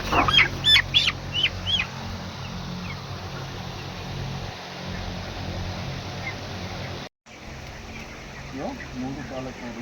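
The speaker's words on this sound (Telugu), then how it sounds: "మూడు కాళ్ళ కోడి" A three-legged chicken, about 24 days old and roughly 1.5 kg, calls out in several quick, loud cries at the start, then the scene falls to a low background hum with one faint call near the end.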